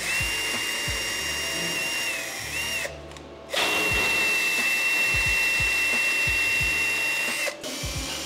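A power tapping machine cuts threads into holes in steel for a glass partition. The motor whines steadily and loudly, stops briefly twice, and low knocks of the workpiece being handled sound between passes.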